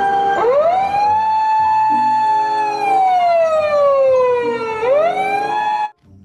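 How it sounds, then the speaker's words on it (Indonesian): Toy ambulance siren wailing loudly and steadily, its pitch sweeping slowly up and down in long electronic cycles for about six seconds before cutting off abruptly. "Mobil ambulan."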